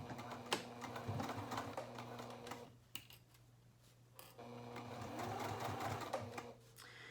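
Sewing machine stitching a zipper seam on a coin purse card holder, running in close, rapid bursts of mechanical ticking, pausing briefly around the middle, then resuming steadily.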